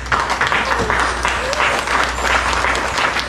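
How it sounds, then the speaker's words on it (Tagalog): Wedding guests applaud the newlyweds just after their introduction, a steady dense wash of clapping across the whole stretch with a faint voice underneath. "Hinay na daw yung palakpak."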